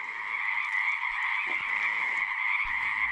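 A small wild frog calls in one steady, continuous croaking trill that holds throughout, loud and close, with a few faint low bumps of handling or movement nearby and no talking.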